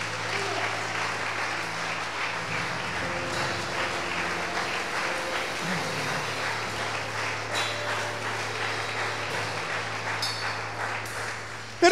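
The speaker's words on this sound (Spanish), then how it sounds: "Vamos a darle un aplauso al Señor" A church congregation applauds during a sermon, a soft, steady wash of clapping heard at a distance over a low sustained hum.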